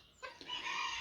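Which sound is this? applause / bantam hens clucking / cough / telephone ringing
bantam hens clucking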